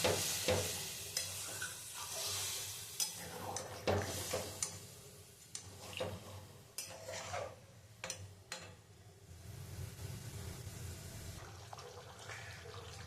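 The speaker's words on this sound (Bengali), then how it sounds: "তেল ছেড়ে দিয়েছে, এবার আমি জল দিয়ে দেবো।" Boiled, fried potatoes for Kashmiri dum aloo sizzle in oil as water goes in, with steady frying hiss, close clinks and scrapes of stirring, and a few sharper spits over about thirteen seconds.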